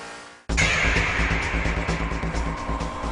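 A 1998 Honda Integra DC2 Type R Spec R at Fuji Speedway, its engine snapping into a loud, sustained high-rev drone from inside the car after a brief quiet moment.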